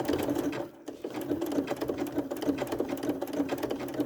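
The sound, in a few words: sewing machine sewing quilt block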